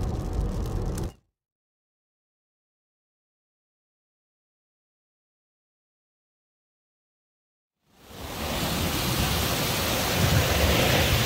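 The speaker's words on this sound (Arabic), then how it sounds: "أحد الشعاب على أثر الأمطار التي هطلت على محافظة العيدابي اليوم السبت" Rainwater rushing through a ravine after heavy rain in Al-Eidabi governorate gives a loud, dense, hiss-like roar, cut by several seconds of complete silence before the steady torrent returns.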